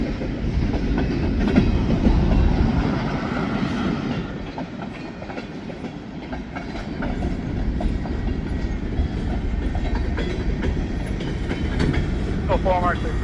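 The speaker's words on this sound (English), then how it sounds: "separating out the gondolas from where they were on the train" Freight cars, gondolas and box cars, being switched roll slowly past with clanking, rattling wheels and a low steady drone, close by and continuous throughout.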